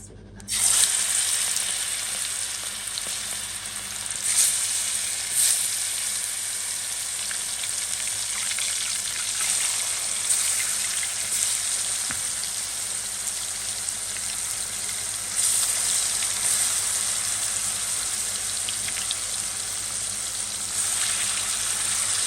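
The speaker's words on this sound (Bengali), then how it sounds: "কড়াইতে তেল বসাই দিয়েছি তেলটা অলরেডি গরম হয়ে গেছে আমি হচ্ছে মাংসগুলো দিয়ে দেবো" Loud, constant sizzling of meat hitting hot oil in a pan, close by, with occasional bursts of stronger crackle and faint scraping.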